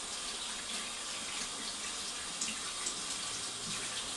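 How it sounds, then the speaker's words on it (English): Squid ink is rinsed off hands under a running kitchen tap, a steady close hiss of water splashing into a sink with faint shifting splashes as the hands move, no voices. "I'll rinse the ink off my hands"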